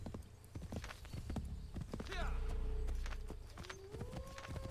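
Horse hooves clip-clopping in the video game Assassin's Creed 3, a quick running rhythm throughout with a brief whinny midway, a low rumble, and a player talking over it.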